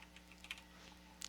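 Computer keyboard keys tapped in a short, quiet burst of typing, a few soft irregular clicks close by with no talk.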